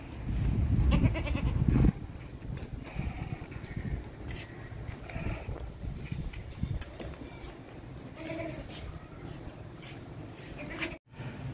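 A goat that has just arrived at an unfamiliar place bleats loudly at the start, then calls more faintly a few times while someone talks over it outdoors.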